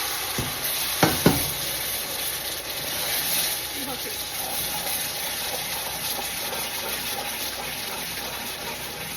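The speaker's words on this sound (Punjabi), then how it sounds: "ਪਾਣੀ ਜਦੋਂ ਆਪਾਂ ਪਾਉਣਾ ਨਾ ਧਿਆਨ ਨਾਲ ਪਾਉਣਾ ਪਾਣੀ ਦੇ ਛਿੱਟੇ ਬਹੁਤ ਪੈਂਦੇ ਹੈਗੇ" Hot water is poured into sugar being stirred in a pan for kada prasad, giving a steady sizzling, splattering hiss with a few sharp spatters near the start while a voice speaks briefly.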